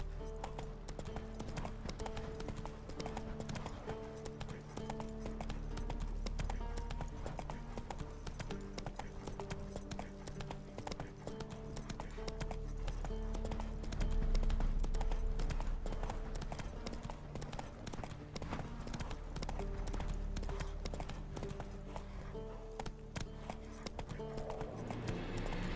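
Horse hooves clip-clop at a steady gallop in The Witcher 3 video game, running continuously over a dense game soundtrack with faint whinnies.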